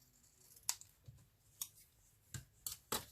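Scissors snipping excess paper from an accordion-pocket paper craft, five or six sharp, close cuts spaced irregularly over a quiet background.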